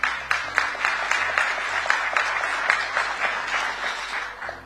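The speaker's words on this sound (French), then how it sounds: "Applaudissez-les, s'il vous plaît." Applause from the audience at a political speech: steady, dense clapping from a crowd that holds at a moderate level, with low music or hum running underneath.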